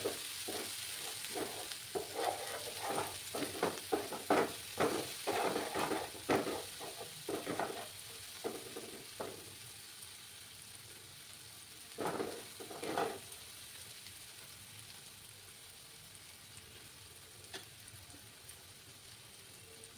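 Masala with salt and four slit green chillies for a red katla fish curry sizzles in a pan as a spatula scrapes through it in quick, rhythmic strokes, then slows to a few scattered stirs over a faint steady fry.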